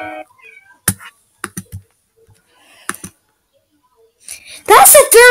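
A cat indoors lets out one loud, close meow at the end, after several sharp clicks and taps in an otherwise quiet room.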